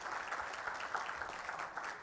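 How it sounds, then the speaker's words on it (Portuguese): Steady applause from a panel audience at a telecom industry talk on financial innovation, a dense, even wash of many hands clapping at moderate distance with no voices over it. "Peço uma salva de palmas também."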